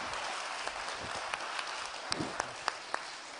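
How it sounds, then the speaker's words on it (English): An audience at a youth forum results presentation gives steady, dense applause for the competition winners, with a few sharper individual claps standing out near the end. "these people deserve a huge applause"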